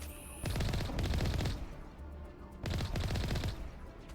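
Pirate snipers fire in the Mass Effect video game in two bursts of rapid, crackling shots about two seconds apart, fairly quiet overall, with no talking.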